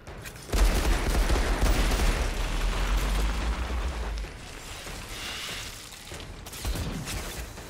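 Heavy gunfire from the video game Outriders rattles in dense, sustained bursts, loud and close, easing briefly before a fresh volley breaks out near the end.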